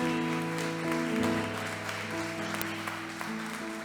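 A church congregation claps along under sustained music, the applause soft and spread evenly beneath held organ-like tones.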